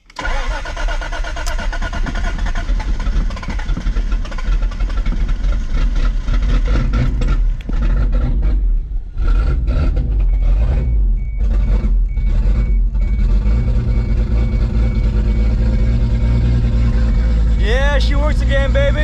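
After a head gasket repair, a car engine cranks and catches, then runs and revs unevenly with loud, rough bursts, sputters and dips, close up throughout.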